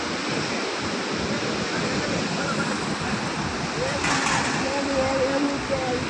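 Water pours from two raised gates of the Pulichintala dam toward the Prakasam Barrage, a steady broad roar of rushing water with wind noise, continuous and even throughout.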